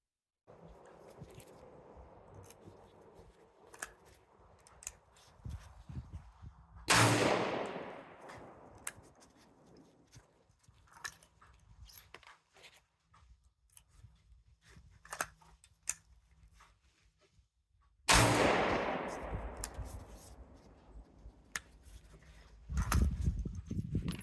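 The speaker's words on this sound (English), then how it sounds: "It's a pretty wicked little gun to shoot." A break-action .22 Hornet pistol fires at a shooting range: two loud, sharp shots roughly eleven seconds apart, each with a ringing decay, and a third begins at the very end, with quiet handling noise in between.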